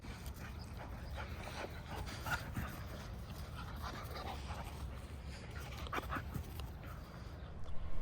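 Dogs in a small fenced dog area at an RV campground in Rawlings, Wyoming, panting and giving faint whimpers and yips over steady outdoor background noise, with no talking.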